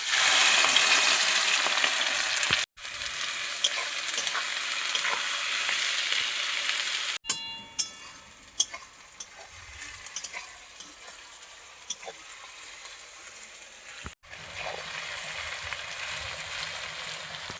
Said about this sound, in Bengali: পেঁয়াজ ভেজে নেব।